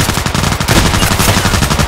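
Pump-action MP-133 shotgun firing in the online shooter Contract Wars, loud dense gunfire filling the short clip with repeated sharp blasts and no talk.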